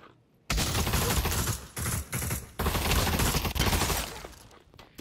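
Gunfire in the VR shooter Pavlov, set in the Tarkov Factory map: dense, rapid automatic bursts, loud and close, in several long volleys with brief gaps and no talk over them.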